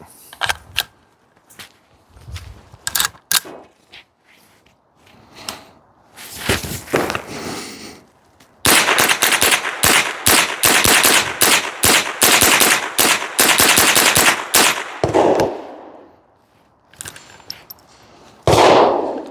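A bufferless AR rifle fitted with a CMMG .22LR conversion fires Winchester 40-grain rounds: a few scattered cracks at first, then a long, fast, loud string of closely spaced shots, and a final report after a brief lull, with no talk.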